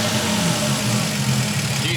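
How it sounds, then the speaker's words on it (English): Toyota 2JZ engine fitted with a custom intake manifold, running rich, revving steadily under a brief throttle flip, loud and close with a continuous low rumble, while a person talks over it. "Go on, give it a little throttle flip. A little bit more."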